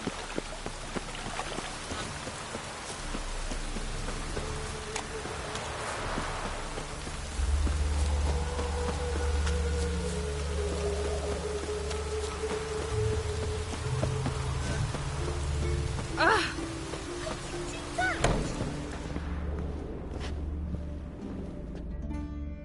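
Steady rain hisses throughout in The Witcher 3: Wild Hunt, with low rumbling ambience and an occasional louder thud, sustained and fairly close.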